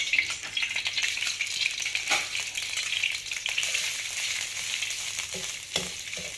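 Khmer spices frying in a pan for fish amok give a dense, continuous hiss and crackle, with occasional stirring clicks and scrapes near the end, close by and steady.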